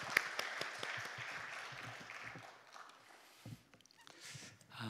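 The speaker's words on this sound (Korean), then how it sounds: "우리 하나님 앞에 영광의 박수 올려드립니다" Church congregation at a fasting prayer retreat gives a brief round of applause that thins out after a few seconds, leaving scattered faint claps and room noise.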